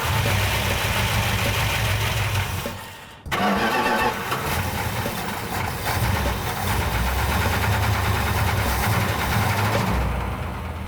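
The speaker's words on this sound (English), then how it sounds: "We're going to take the car outside and run it for a little while longer, try to put a little load on it" A 1970 Plymouth 'Cuda V8 runs loud and close, a rough rumbling engine that briefly cuts out near three seconds, then catches and settles back into a steady, slightly uneven idle.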